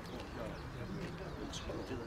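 Pigeons coo softly at a pigeon show in Kozani, Greece. The low, faint cooing comes amid crowd murmur and people talking in the background.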